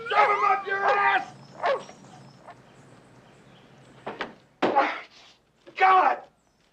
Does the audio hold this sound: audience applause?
no